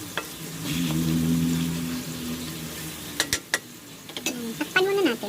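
Marinated pork for Visayan ginamay cooking in a pan, a low steady sizzle under a humming background, followed by a few sharp utensil clinks and knocks near the end, with a voice speaking briefly.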